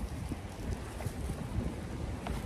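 Rough, gusty wind buffets against the microphone in a steady low rumble, with no clear voices over it.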